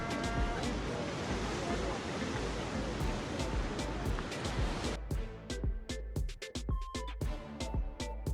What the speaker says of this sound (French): Des belles vagues, c'est beau.